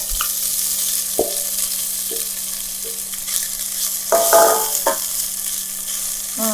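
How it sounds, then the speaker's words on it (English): Seasoned tofu browning in oil in a stovetop pan gives a steady bright sizzle, close and continuous, broken by a few soft scrapes and taps of a utensil stirring, with no talking. "Okay, so we will start by browning the tofu, the seasoned tofu."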